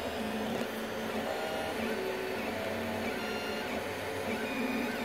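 A Creality CR-10 3D printer's nozzle drags across a PETG print, giving a steady close mechanical whir with faint scraping and stepper motor tones throughout, no voices.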